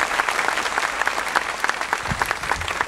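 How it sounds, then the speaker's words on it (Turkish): A short burst of steady clapping from a small TV talk-show studio audience, continuous and fairly close, with no voices over it. "Buradan Ajda Hanım'a bir alkış"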